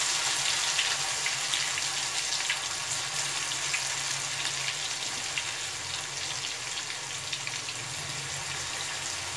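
Chilli chicken pieces fry steadily in hot oil, giving off a loud, even, crackling sizzle that holds throughout without talk.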